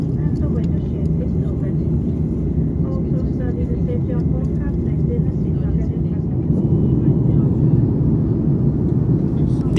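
Steady roar of an Air Greenland airliner cabin in cruise over the Greenland ice cap, a loud continuous low rumble throughout, with a voice talking over it.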